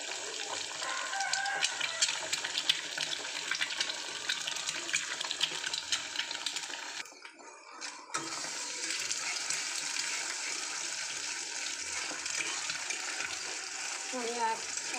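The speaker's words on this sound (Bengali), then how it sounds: "আমি এক করে ভালোভাবে পেঁয়াজটা ডিমটা ভেজে নিচ্ছি" Eggs and onions sizzle and crackle in a hot frying pan, a steady close frying hiss that stops for a moment and then resumes, with faint voices in the background.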